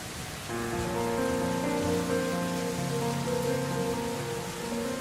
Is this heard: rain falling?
yes